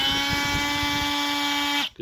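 A repaired Dewalt DCS355 cordless brushless oscillating tool runs with a loud, steady high-pitched buzzing whine for nearly two seconds, then cuts off abruptly.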